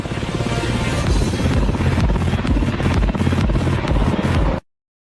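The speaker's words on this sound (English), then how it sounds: "There's no pilot inside this helicopter." An autonomous, pilotless Black Hawk helicopter flies close by, its rotor producing a loud, steady, pulsing drone with heavy low rumble throughout, then cutting off abruptly near the end.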